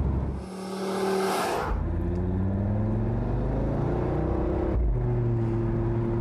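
Audi TT RS with its five-cylinder engine and switchable sport exhaust, a revving, rising and falling engine note that climbs through several gears, loud and close with a brief whoosh at the start.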